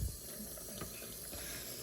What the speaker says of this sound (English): Let me get that 1/2 cup of water now.